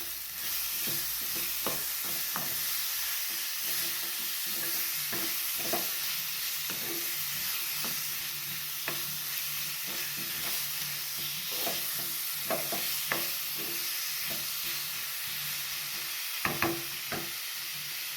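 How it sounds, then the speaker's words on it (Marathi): Ivy gourd (tondli) fries in oil in a pan, giving a steady close sizzle, while a spoon stirs it with repeated scraping knocks against the pan. "हे मिक्स करून झाले आपलं आपण ही तोंडली अशी तेलामध्ये थोडीशी भाजून घेतलेली आहे"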